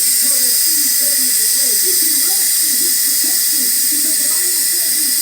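Steam hisses steadily and loudly from an Instant Pot pressure release valve, a constant broad whoosh that drowns a voice talking faintly underneath.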